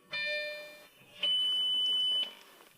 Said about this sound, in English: I'll just close the door. And then you won't have any beeping sounds either.